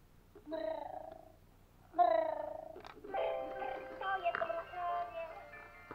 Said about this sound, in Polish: Patrz, on mruczy.